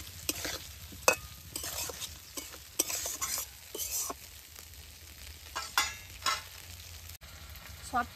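Egg curry ingredients, fried eggs and salt among them, sizzle in a pan while a spatula scrapes and stirs in irregular strokes, close but fairly quiet, with no voices.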